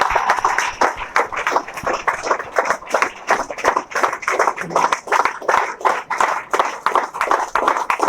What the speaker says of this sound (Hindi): ताली बजा के लोग स्वागत कीजिए।